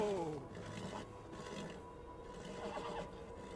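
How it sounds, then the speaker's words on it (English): Horses whinnying during horse breaking in the video game Beyond: Two Souls, a high neigh opening over low rumbling, with rubbing and faint hoof sounds beneath later. "Breaking horses."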